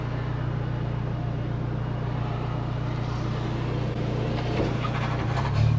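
A Honda S2000 fitted with an HKS exhaust drones steadily from inside the cabin, a low, even hum that holds at a constant pitch before rising slightly near the end, with no talking.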